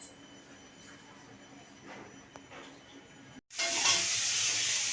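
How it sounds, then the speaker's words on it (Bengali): Pointed gourd and potato frying in a pan, a soft steady sizzle that jumps suddenly to a loud, bright hissing sizzle near the end. "পটল আর আলুটাকে ভেজে নিচ্ছি তরকারি করব"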